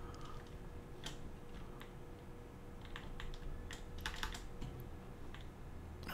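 A computer keyboard is tapped quietly during a game session, a few scattered key presses and clicks standing out faintly over a low background hum.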